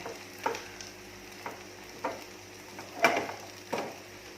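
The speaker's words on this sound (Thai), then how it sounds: "เราก็จะค้างไว้ในกระทะแบบนี้ เราให้น้ำน้ำมันลงมาข้างนี้ ตักอันนี้ก็ให้เขาค่อยๆกรอบลงไป" A vegetarian oyster pancake crisping in oil in a wok, with a low steady sizzle broken by several separate scrapes and taps as a spatula pushes it to one side.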